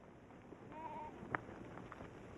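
A goat in the Ladakh Himalayas gives a short, faint bleat at a distance over a soft outdoor background, followed by a brief sharper call.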